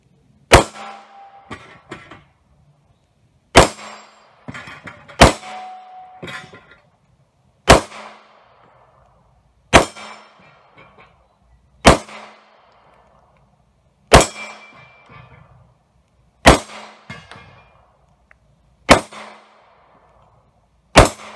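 Pistol shots from a Springfield XD Compact .45 ringing off steel targets, nine sharp reports spaced a couple of seconds apart, each followed by a metallic clang and short ring, close and loud.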